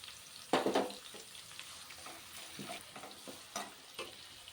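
Chopped onion and green chilies fry in a pan with a moderate sizzle, broken by several stirring scrapes, the loudest near the start.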